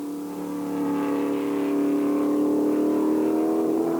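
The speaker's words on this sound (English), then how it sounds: "You can certainly hear this car coming, powered by the awesome DFV Cosworth" Ex-Graham Lawrence Lola T332 Formula 5000 race car with a DFV Cosworth engine at Ruapuna, a loud, steady high-revving engine note that swells and holds as the car approaches at close range, with no talk.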